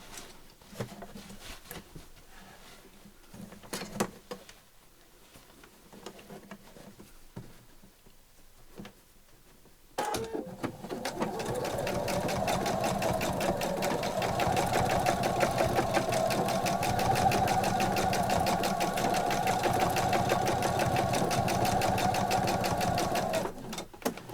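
A sewing machine runs steadily for a long stretch, stitching a bag handle in place with pins left in; quieter handling and shuffling come first, then the loud continuous whirring hum of the motor and needle.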